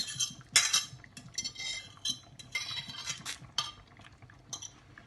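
A spoon stirs chicken noodle soup with carrots in a pot, giving intermittent metallic scrapes and clinks against the pan, close and fairly quiet, with no voices.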